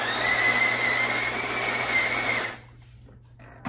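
A Jura ENA 4 coffee machine grinds coffee beans with a steady, loud whirring buzz that stops abruptly, leaving a quiet hum and a faint click after it.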